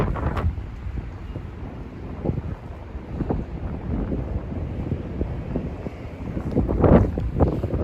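Strong wind buffeting the microphone outdoors in New York City at night, a loud continuous roar with rumbling gusts that swell and fade, peaking near the end.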